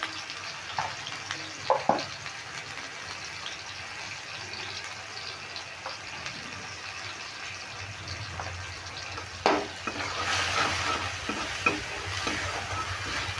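Salt and turmeric powder frying and being stirred into spices and tomato in a pan for a vegetarian ridge gourd curry, a steady sizzle with scattered scraping spoon strokes, louder bursts of stirring and hissing near the end.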